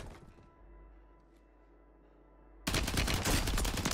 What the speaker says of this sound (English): So who's shooting from the left?